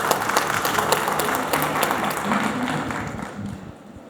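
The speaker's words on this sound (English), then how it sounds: "can we have a big round of applause for our panelists," A hall audience at the Index Saudi 2024 conference gives a round of applause for panelists, dense clapping that holds steady and then thins out and fades near the end.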